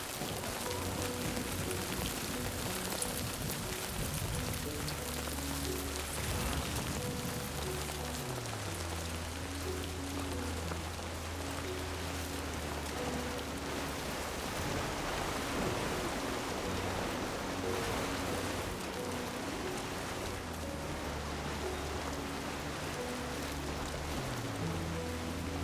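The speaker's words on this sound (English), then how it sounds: "So, is this timefall or is this just regular rain?" Heavy rain pours in the video game Death Stranding 2 as a dense, continuous hiss of drops on surfaces that fills the whole stretch, with low steady game music tones underneath.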